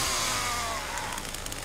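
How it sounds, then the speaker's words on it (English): A chainsaw in the Texas Chain Saw Massacre video game starts up loudly, its engine note rising and then sputtering into an uneven, rattling idle with brief revving bursts. "I'm gonna start up my chainsaw."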